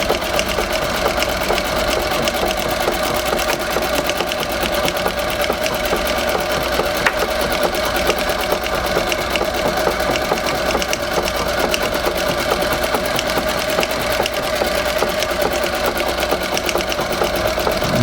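A Singer 201-3 sewing machine set in a treadle stitches with 40 weight thread. Its needle runs in a fast, even mechanical chatter with a steady hum, uninterrupted and close for the whole stretch.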